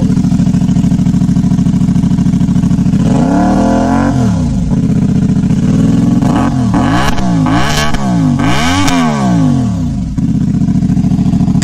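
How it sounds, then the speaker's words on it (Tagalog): A CFMOTO CLC450 motorcycle engine idles steadily up close, then is revved several times in rising and falling bursts before it settles back to a loud, even idle. No one speaks. "Ayan yung tunog niya na idle."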